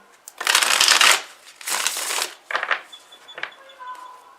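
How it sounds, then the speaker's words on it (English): Oracle cards being shuffled in several quick riffling bursts, close up, followed by a few soft taps and clicks. "I just wanted to let you know I was shuffling the cards"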